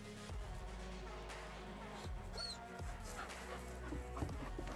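Puppies whimpering and yipping in a quiet room, a few soft, high cries rising over a steady low hum, with scattered faint rustles and no talking.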